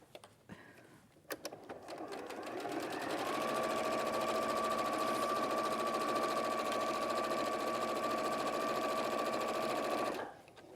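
A sewing machine stitches the final seam of a velvet cushion. A few clicks come first, then the motor spins up into a loud, steady whir that runs evenly for about seven seconds before stopping.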